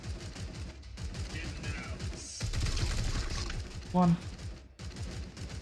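Gunfire in the game Warhammer 40K: Chaos Gate Daemonhunters, a burst of rapid shots with a sharp report near the end, heard beneath ongoing talk.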